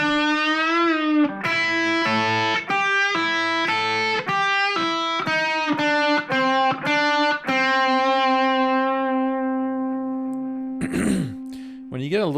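An electric guitar plays a riff an octave lower, with a run of distinct picked notes and sustained, distorted tones. It ends with a wavering, vibrato-like flourish.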